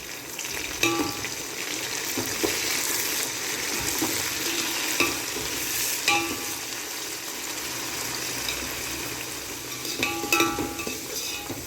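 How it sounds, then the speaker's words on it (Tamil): Coriander and mint get stirred into onions frying for mutton biryani, a steady close sizzle broken by repeated scraping clicks of the spoon against the pan. "போட்டுட்டு நல்லா கிளறி விடுங்க. மல்லி புதினா நல்லா வதங்கணும்."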